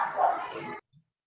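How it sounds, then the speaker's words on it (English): A dog yaps and squeals in a tavern, giving one loud burst of about 0.8 seconds and then a faint short yip, with no talk. "a dog comes into the tavern and immediately starts yapping and squealing"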